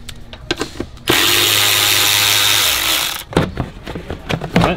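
A power tool spins off 6mm bolts on a BMW M3/M4 airbox in one loud whirring burst of about two seconds, with clicks and clatter of handling before and after.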